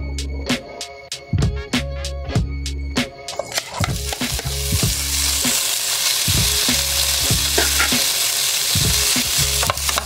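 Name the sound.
pork belly frying in a pan until golden brown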